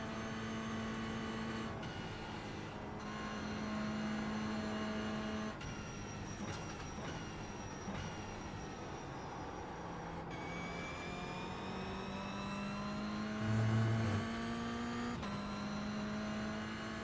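A Porsche GT3 race car engine hums steadily in iRacing, pitch climbing and dropping with each gear shift, with a brief low thump near the end.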